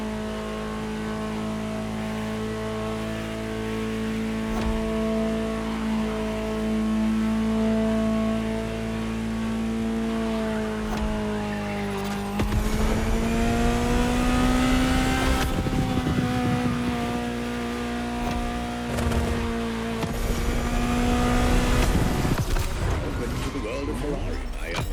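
A sustained Ferrari supercar engine drone with steady harmonic tones that climbs in pitch partway through as the car revs harder, loud and continuous throughout, in the video game The Crew Motorfest.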